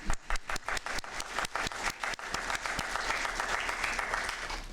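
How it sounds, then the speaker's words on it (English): Audience applause at a city council meeting, beginning as a few separate loud claps and quickly swelling into a fuller, steady round of clapping from the room. "let's give them a round of applause"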